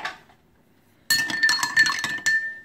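A glass clinks repeatedly as a melaleuca oil throat remedy is stirred inside it, with bright, close taps and a ringing tone after a short quiet gap.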